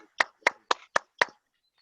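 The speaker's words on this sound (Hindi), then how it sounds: "अभी तक की सबसे दमदार तालियां से अभिनंदन करते हैं" Five sharp, evenly spaced claps ring out close and alone at an orientation training session, then stop.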